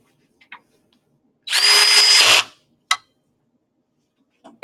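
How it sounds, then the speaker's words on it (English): Power torque screwdriver driving a screw, set to a low torque: one close whirring run of about a second, then a few light clicks and taps. "you're going to take your torque driver and torque them down to the proper setting."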